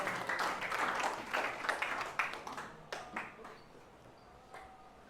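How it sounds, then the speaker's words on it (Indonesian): Participants in a class session clap for themselves, a brisk burst of hand claps that thins out into a few scattered claps and fades to near quiet. "tepuk tangan untuk diri kita sendiri."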